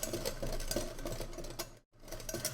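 A whisk beating yogurt and potato starch into a slurry in a bowl, a fast, even rattling clatter close by, with a brief full stop just before the end, then resuming.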